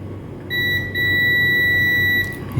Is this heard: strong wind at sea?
no